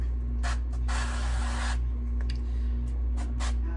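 Short hissing bursts of an aerosol cooking spray onto food in an air fryer, a few quick sprays followed by one longer spray, over a steady low appliance hum.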